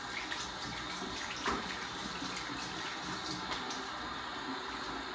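Water runs steadily from a tap into a sink to wet the face before a shave, a constant close splashing rush with no speech.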